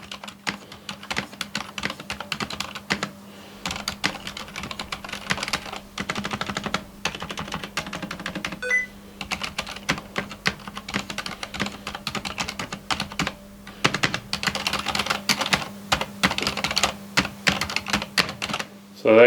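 Continuous typing on a Cherry G80-3000N mechanical keyboard with Cherry MX Silent Red switches, muted, soft keystrokes in rapid uneven bursts, recorded up close with no talking.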